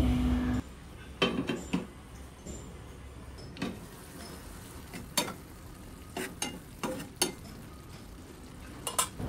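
Shrimp with fish simmer in a pan for a Bengali curry while a spatula stirs them, sharp scraping clicks and knocks scattered irregularly over a faint low sizzle.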